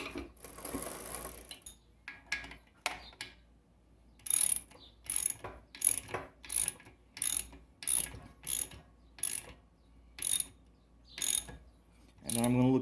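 Socket ratchet tightening reverse-threaded pedals on a Lectrix XP e-bike, heard as a close series of sharp clicking ratchet bursts in an uneven rhythm, a dozen or so strokes with brief pauses between them and no talking.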